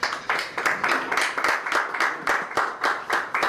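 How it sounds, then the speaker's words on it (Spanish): An audience at a FIHNEC chapter meeting in San Felipe claps in a steady, rhythmic beat, with roughly a dozen evenly spaced bursts of hand claps and no voices over them. "Por favor, recíbanlo con un fuerte aplauso."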